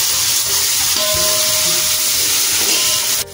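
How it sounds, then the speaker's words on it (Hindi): Ginger garlic paste and onions frying in a pan, giving a loud, steady, hissing sizzle that runs throughout with faint clinks of stirring underneath. "और सबको अच्छे से भून लेंगे।"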